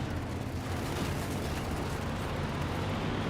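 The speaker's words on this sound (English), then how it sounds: "Katusha Barrage trying to hit those" A Katyusha rocket barrage from the strategy game Company of Heroes 2 pounding a target area, a dense continuous roar of overlapping blasts and rumble that stays loud and steady throughout.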